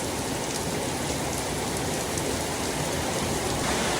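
Steady, heavy rain hisses without a break, an even wash of falling water with no voices.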